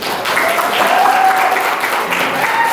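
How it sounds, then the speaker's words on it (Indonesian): Audience at a school graduation ceremony for SMPIT Darul Fikri Balangan students applauds, a dense, steady wash of many hands clapping together, loud and sustained throughout, with faint voices mixed in. "Tepuk tangan untuk mereka."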